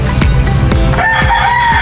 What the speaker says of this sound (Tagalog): manok na native